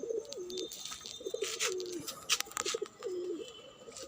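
Pigeons coo in repeated low, throaty phrases close by, a ringed flock in good health, with chirps and fluttery rustles around them and no voices.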